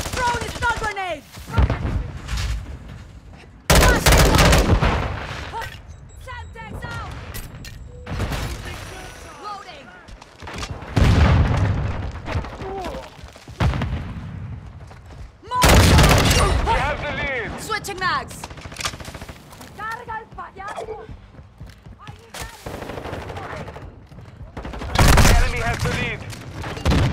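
Gunfire and explosive bursts from a stun grenade in Call of Duty: Modern Warfare II Team Deathmatch on Alboran Hatchery, loud rattling volleys and heavy booms recurring through the scene, mixed with in-game voice callouts.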